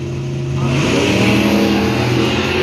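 A drag racing car engine roars loud and close at a raceway, with a 1970 Mustang and a Monza racing. The engine revs upward steadily throughout with no break.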